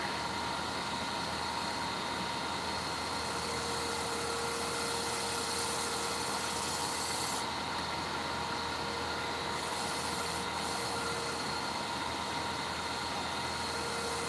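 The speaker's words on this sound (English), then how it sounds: "I have my 3D printer working for me" A desktop 3D printer runs steadily in a workshop, giving a continuous mechanical hum and whir with a few faint high tonal shifts, heard alone at moderate level throughout.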